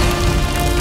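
Steady rain falls outdoors as a loud, continuous hiss and patter with no breaks, filling the short moment alone.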